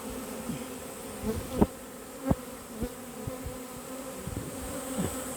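Honey bees swarming onto a caged queen during an autumn swarm, a dense steady buzzing hum throughout with a few sharp close fly-by peaks.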